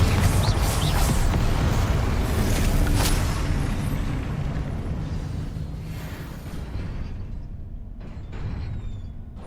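A Confringo blasting spell explodes in Hogwarts Legacy on PS5: a loud, broad fiery burst at the start that rumbles and slowly fades over several seconds, with no talking.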